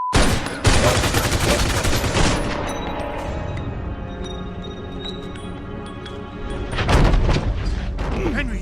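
Heavy bursts of gunfire from the video game Mafia 2, with loud, dense repeated shots and booms across most of the stretch, one strong blast near the start and another flurry near the end, with voices in between.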